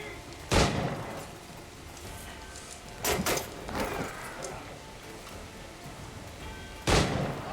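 Pistol shots ring out in Assassin's Creed IV Black Flag, a sharp isolated shot followed by a quick pair a few seconds later and another single crack near the end, all over quiet in-game ambience.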